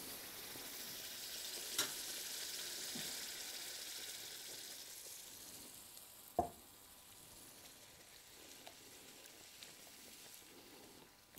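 Sausage stroganoff simmering in a pan as cream is poured in, giving a steady soft frying sizzle with a few sharp clinks and taps from stirring and the pan, with no talk.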